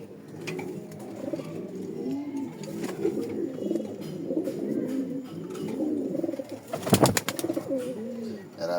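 Racing pigeons coo continuously in low, rolling murmurs, several birds close by, with a brief burst of rustling or flapping near the end.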